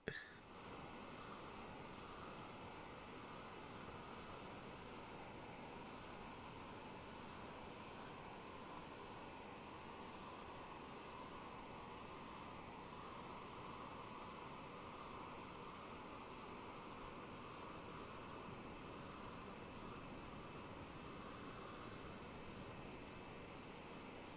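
A steady jet engine drone from an aircraft in Microsoft Flight Simulator, a constant even roar with a faint high whine that holds unchanged for about twenty-four seconds, alone without talk.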